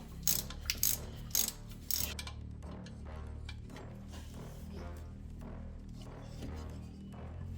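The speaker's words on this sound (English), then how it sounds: "All right, let's take off this last bolt." A ratchet wrench loosening the last bolt on an alternator during a 150-amp alternator upgrade on an '83 Regal, giving several sharp bursts of clicking early, then quieter continuous ratcheting close up.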